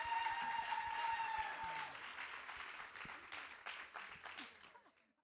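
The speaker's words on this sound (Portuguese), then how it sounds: "vou pedir uma salva de palmas para a Natália" Audience at a book fair applauding an author as she is welcomed: a full burst of clapping from a crowd that gradually thins and fades out toward the end, with faint voices underneath.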